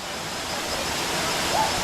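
Steady, full-bodied rush of a waterfall in Colombia near Minca, loud and close, a continuous broadband roar with a brief faint voice-like sound near the end.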